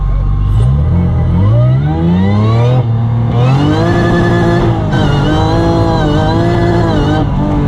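A supercharged V6 Toyota MR2 accelerates hard through several gears, its engine note loud and close, climbing in pitch, dropping at each upshift around three and five seconds, then rising again throughout.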